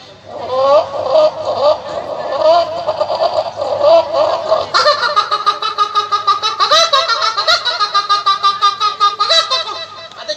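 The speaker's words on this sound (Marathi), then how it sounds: "आता कोंबडी पिल्लांना उठवते" Busy, high-pitched chirping and clucking from a hen and her chicks, steady and fairly close, growing denser and more rhythmic in the second half.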